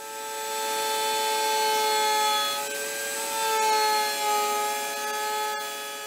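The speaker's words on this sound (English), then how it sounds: "I'm just going to trim a very small amount off the wheel blanks that I already have" A router trims wooden band saw wheel blanks with a sustained, high-pitched whine that rises and dips slightly as it cuts, loud and close with no talk.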